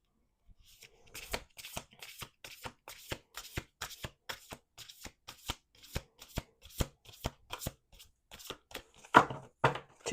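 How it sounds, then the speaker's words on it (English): A deck of tarot cards is shuffled repeatedly by hand, crisp riffling bursts in a steady rhythm of about two per second, close and clear with no speech. "Two more shuffles."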